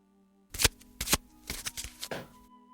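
A deck of tarot cards is shuffled by hand at close range in a run of quick riffling bursts and taps over about two seconds, with nobody speaking.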